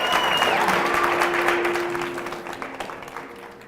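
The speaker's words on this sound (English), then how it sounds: "One more round of applause, everybody." An audience applauds at an afternoon panel discussion on sexual harassment in film and television, a dense, steady clapping that fills the room and slowly thins toward the end, with no talk over it.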